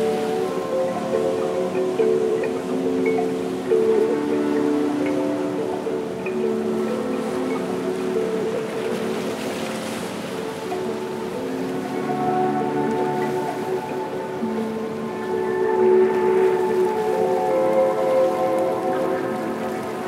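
Sea waves wash continuously against the shore in a steady, broad rush that swells slightly at moments, with no voices over it.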